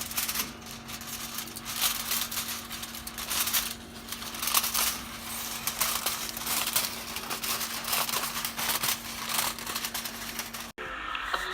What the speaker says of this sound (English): for this DIY we are gonna make some aluminium foil rolls like this